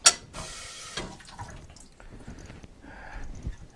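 Cocktail shaker gear gets a quick rinse under a running tap: short bursts of splashing water, metallic clinks and handling noises, close by, with no talk.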